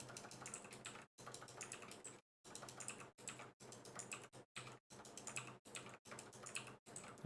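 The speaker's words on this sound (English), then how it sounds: "Keyboard ASMR, boys." Computer keyboard typing, close and fairly quiet, with rapid clattering keystrokes in bursts separated by short pauses.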